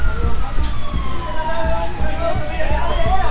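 A fire truck siren wails with rising and falling tones in the distance, over rumbling noise and crackling in the foreground near a burning house.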